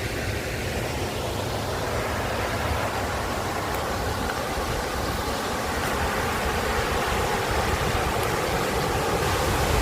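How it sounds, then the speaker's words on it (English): Steady rushing water from a large waterfall and stream in a Kenyan village setting, a constant broadband roar that holds at even loudness throughout with no voices. "Can you guys hear the noise of the water? The waterfall."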